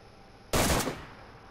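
A single loud burst of gunfire in a shooter video game, cutting in abruptly out of a quiet hum and ringing out for about half a second before fading.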